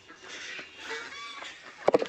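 Hens in a farmyard give faint, scattered clucks and soft calls, ending in a quick louder burst of a few clucks close by.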